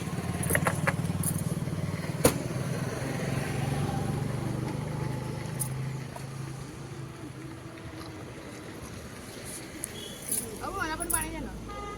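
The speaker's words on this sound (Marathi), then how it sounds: "रोशनीने आणलेले पेट्रोल गाडी टाकूया आता पेट्रोल निघूया पुढे" A motorcycle pulls away after being refuelled on a road trip, its engine droning steadily up close with occasional knocks and clicks, while voices talk over it near the end.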